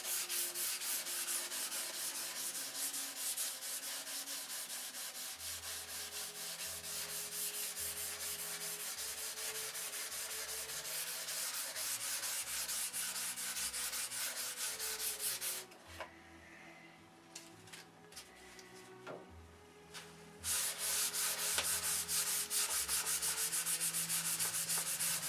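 Primer being sanded off a surface makes a continuous, close scratchy rubbing with a steady stroke rhythm, quieting to a lighter rasp for a few seconds before the full sanding returns.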